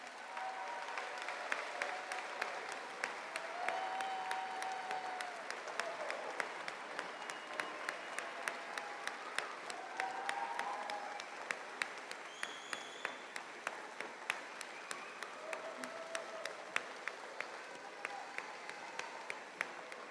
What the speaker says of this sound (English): Please, another applause for all our graduates.